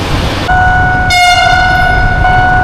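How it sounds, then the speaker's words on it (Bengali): A train sounds a loud, sustained, multi-tone horn as it passes a closed railway crossing in Thailand where traffic waits. The horn blares steadily for about two seconds over a rumbling background. "আমরা একটা রেল ক্রসিংয়ে দাঁড়াইছি, এখানে রেল ক্রসিং সব বন্ধ হয়ে গেছে"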